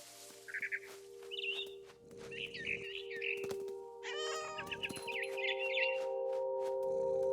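A cat meows in the video game What Remains of Edith Finch, giving several drawn-out mews and a strained cry over sustained ambient music, with faint bird chirps mixed in.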